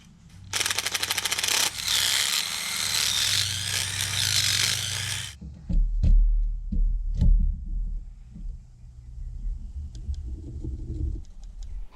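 A power drill bores holes in 4x4 wooden posts with a loud whirring, grinding burst lasting about five seconds. Quieter handling clunks and knocks follow outdoors.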